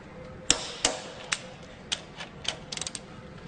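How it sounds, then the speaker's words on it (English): Torque wrench tightening cylinder head bolts on a Cat 3406 diesel engine: a series of sharp metallic clicks, single snaps spaced apart and then a quick cluster of four near the end, close and fairly faint, no speech. "now we can go ahead and torque it"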